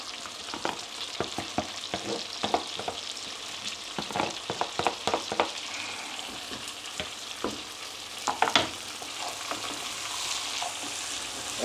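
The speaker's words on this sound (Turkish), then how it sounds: "Evet arkadaşlar, soğanı kavuruyoruz güzelce göründüğü gibi." Onions sauté with browned meat in a pan, a soft continuous frying hiss broken by irregular clacks and scrapes of a spoon stirring, fairly quiet and close, with no talking.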